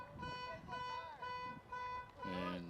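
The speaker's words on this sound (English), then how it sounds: "someone's car alarm is going off" A car alarm near a baseball field sounds as repeating electronic tones, some warbling, fairly distinct over crowd and ballpark background noise.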